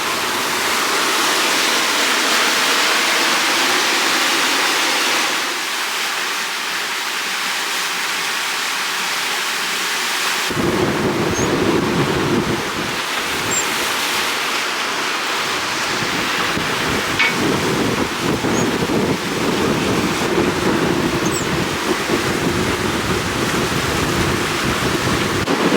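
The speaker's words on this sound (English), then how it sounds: "you probably can't hear me because it's a little bit windy" Strong wind rushes steadily with broadband ocean waves and spray while a sailing boat runs under an A2 spinnaker at night on a passage toward Miami, loud and continuous with gusting surges.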